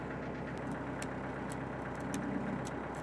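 Tractor engine idling steadily and quietly at a distance while it pulls down a bowed 18-foot cedar beam with ratchet straps, a low continuous rumble with faint clicks and no voices.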